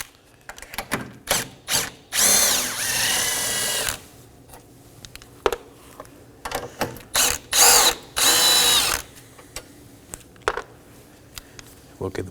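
Power tool removing 10mm nuts and a bolt from a bracket on a 2015-2023 Nissan Maxima 3.5L V6, with two longer high-pitched whirring runs and several short bursts, interspersed with clicks and a voice talking.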